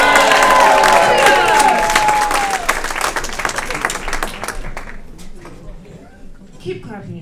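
A comedy club crowd applauds and cheers for comedian Todd, loud dense clapping with whoops and voices over it, tapering off and fading toward quiet near the end.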